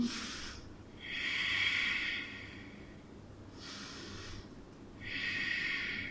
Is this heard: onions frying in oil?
no